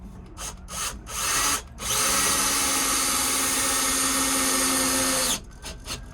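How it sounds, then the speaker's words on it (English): A power drill drives screws to fix a board in place inside an RV under renovation, with short bursts first, then a long sustained loud whirring run and a few brief trailing bursts at the end. "I'm just gonna secure it, a couple screws, make sure it's not going anywhere."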